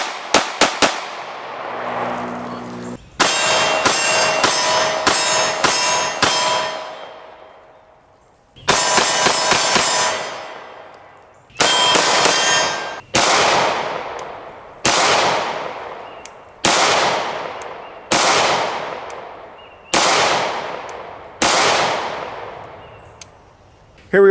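A CZ 75 pistol fired with Federal American Eagle 115-grain jacketed hollow points at an outdoor range, loud sharp reports in quick strings early on, then single spaced shots each ringing out with a decaying tail.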